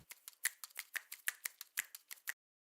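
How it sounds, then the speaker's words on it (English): A run of about a dozen crisp, close finger snaps in a quick, slightly uneven rhythm, recorded for a snare sound in music production, then silence. "So we could try getting a finger snap onto this snare"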